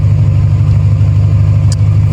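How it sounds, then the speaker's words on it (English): A car with an aftermarket Flashark header and the catalytic converter removed idles roughly, its exhaust a loud, steady low rumble throughout, with one brief high tick near the end. "this is what it sounds like just idling, but driving, it is incredibly loud"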